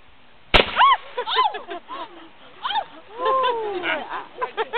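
A musket fired at Baddesley Clinton gives one sharp, loud crack near the start, followed by voices talking and exclaiming.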